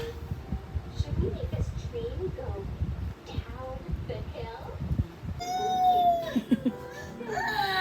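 An infant cries in thin, wavering wails at close range, mixed in with ongoing adult speech and household noise, the crying growing more prominent toward the end.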